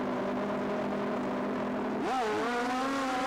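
Pro Stock drag racing cars from a 1986 IDBA meet in Warner Robins, Georgia, roaring steadily with harmonic engine drone that sweeps upward in pitch as they accelerate hard, loud and continuous with no voices.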